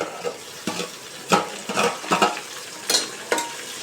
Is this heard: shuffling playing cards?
no